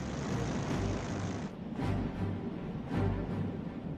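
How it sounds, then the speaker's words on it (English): World War II propeller airplanes drone overhead, a loud continuous engine roar that swells and fades in waves, with no voices. "Planes heard 3 miles southwest."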